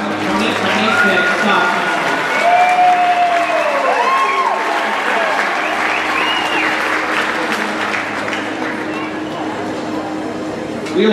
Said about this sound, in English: Let's give a round of applause for the class of 2026